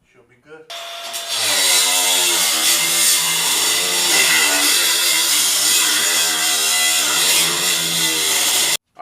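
A power saw cuts the inner rear fenders of an OBS GMC Yukon for wheel tubs, a loud, steady, harsh whine that starts about a second in, runs unbroken for nearly eight seconds, and stops abruptly.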